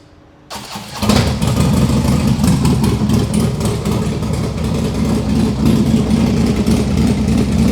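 Harley-Davidson motorcycle engine on a test ride after a service: a brief quiet moment, then the engine fires up near 1 second and runs with a loud, steady, throbbing roar close by for the rest of the clip.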